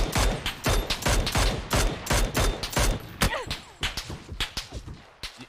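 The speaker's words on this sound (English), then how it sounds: "Is that you getting shot at?" Gunfire in PUBG on the Miramar map: rapid bursts of sharp, loud shots crack in a quick, uneven rhythm, close and alone, then thin out toward the end.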